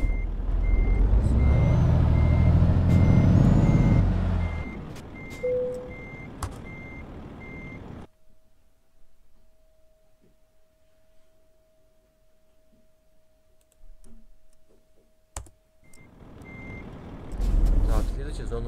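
Reversing beeps from a truck in Euro Truck Simulator 2, a steady repeating tone pulsing in a regular rhythm over the rumble of the engine, with louder truck and air noise before and after the beeping stretch.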